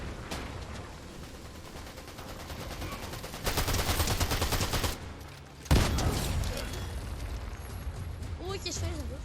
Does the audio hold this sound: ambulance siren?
no